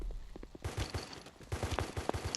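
Rapid gunfire from the Guns of Boom shooter game crackles in repeated bursts and single shots, fairly loud and close, with faint game sounds in between.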